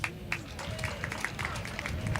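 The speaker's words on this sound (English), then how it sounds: "Let's clap to that." An audience at a residents' feedback meeting claps briefly, a scattered patter of hands with a few louder claps standing out.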